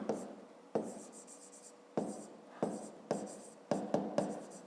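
Handwriting on paper during a fifth-grade maths lesson, close scratchy pen strokes in short repeated bursts with brief pauses between them.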